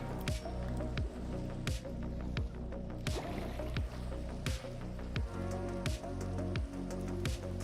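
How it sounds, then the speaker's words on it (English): Rain falling in the Minecraft video game, a steady dense patter under repeated rhythmic low thumping game sounds, with no talking. "Oh no, the rain is back."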